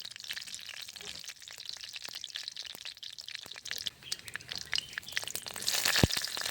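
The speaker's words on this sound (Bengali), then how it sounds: "তেল গরম হয়ে গেছে, ফোড়নে দেব তেজপাতা, শুকনো লঙ্কা, পাঁচফোড়ন" Bay leaf, dried red chilli and panch phoron sizzling in hot oil for a Bengali kochu shaag dish, a steady crackling fry with sharp spits and pops that grow louder toward the end, close and alone.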